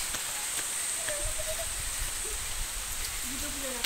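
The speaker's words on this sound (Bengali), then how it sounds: "2-1 ফোঁটা করে বৃষ্টি পড়ছে" A soft, steady hiss of light rain, with faint, brief voices in the background.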